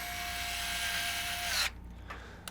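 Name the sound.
screwing in graphics card screws on a PC case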